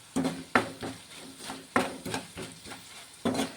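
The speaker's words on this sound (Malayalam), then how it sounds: "ബ്രാഹ്മിൺ പിക്കിൾ പൗഡർ ലോ ഫ്ലെയിമിൽ ഇട്ടിട്ട് അതിൻ്റെ പച്ചമണം മാറുന്നത് വരെ നമ്മളൊന്ന് ഇളക്കി കൊടുക്കുക" Pickle masala powder being stirred in a pan over a low flame for a raw-mango pickle, with soft scraping strokes and a few clinks of a spoon against the pan at an irregular, unhurried pace, close and fairly quiet.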